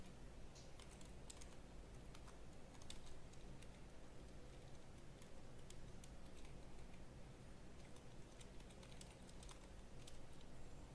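Steady, fast typing on a computer keyboard, soft clicking keystrokes in a continuous quiet stream with occasional brief pauses, heard close and alone.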